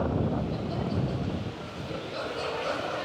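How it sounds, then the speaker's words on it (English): Strong, steady gusts of ocean wind buffet the microphone on a humid coast, a loud continuous rumbling roar that eases slightly midway before building again. "I'm just grateful for the breeze, or should I say strong gusts of wind, blasting me from the ocean nearby"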